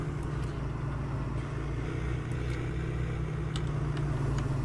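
Tractor engine in Farming Simulator 19, sounding a bit odd: a steady low droning hum runs throughout at even loudness, with faint higher clicks now and then and no talking.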